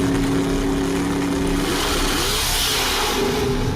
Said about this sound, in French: Ils relâchent un piton et ça fait accélérer la voiture.